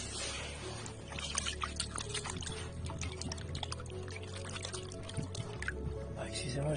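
A small agate stone is rinsed under running water, a continuous pouring and splashing stream that stays close and fairly loud throughout, with a voice speaking over it.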